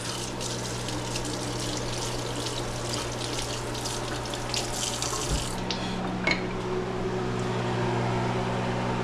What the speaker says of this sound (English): This is gonna get a little spoon rinse off.